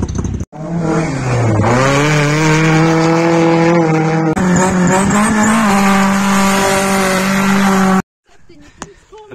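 A VW Golf rallycross car on a dirt track. The loud, close engine revs rise and fall through gear changes for about eight seconds, then cut off abruptly, leaving faint background noise.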